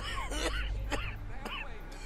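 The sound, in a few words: character coughing in Red Dead Redemption 2 video game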